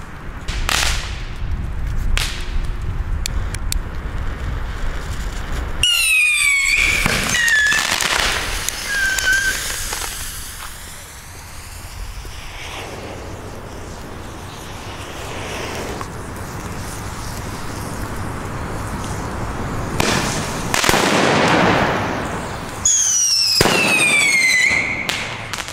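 P1 firecrackers, both flash-powder and black-powder types, go off in a series of loud outdoor bangs with crackling, whistling tails and echoing pauses between the blasts.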